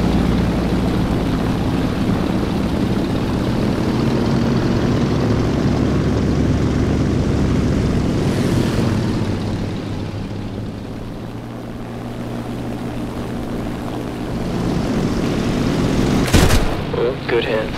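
Propeller aircraft engines drone steadily in a simulated dogfight in a combat flight game, a continuous loud hum that dips briefly in the middle, with a short burst of gunfire near the end.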